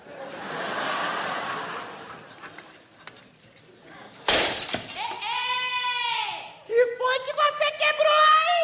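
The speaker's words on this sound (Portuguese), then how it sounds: "Você quebrou o cálice!" A glass goblet shatters in a sharp, bright crash partway through, preceded by quiet talk and followed by voices and laughter.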